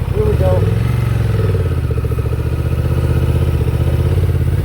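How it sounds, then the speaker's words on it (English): A 2024 Honda Transalp 750 on stock tires rides off-road, its engine chugging loudly and rhythmically up close as it climbs a hill, while someone talks over the motor. "Again, Transalp, Honda 2024, stock tires, going off-road."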